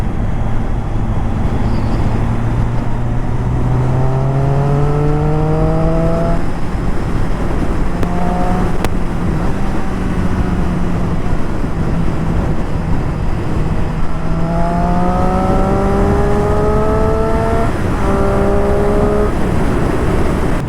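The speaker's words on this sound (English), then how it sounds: "This motorcycle begs you to rev." A Triumph Street Triple 675 motorcycle engine revving loudly and close, its pitch climbing and falling in long sweeping rises across two separate throttle runs over a steady idle, with no talking.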